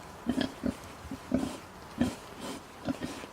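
A pig being trained to an electric fence grunts repeatedly in short, low snuffling bursts, close by, with irregular pauses between them.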